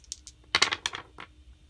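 Dice rolled during a tabletop board game, a quick series of light hard clatters and taps across the surface over about a second, close by and fairly quiet, with no talk.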